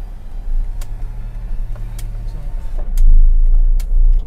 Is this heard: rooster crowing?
no